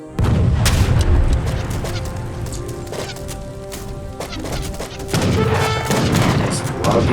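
Musket volleys in the Age of Empires III strategy game, repeated sharp shots crackling over a busy battle mix with loud bursts at the start and again near the end, no voice on top.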